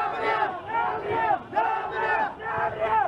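A large mourning crowd in Sulaymaniyah, gathered for the death of Mam Jalal, shouts in unison in loud, rhythmic chant-like waves that rise and fall about every second.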